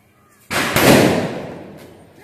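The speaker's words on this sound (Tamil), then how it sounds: "கணேசா சூப்பராக வெடிச்சிது" A Ganesha brand firecracker bundle bursts in one sharp, loud blast at a Diwali celebration. A second crack follows almost at once, then a long rumbling decay fades out.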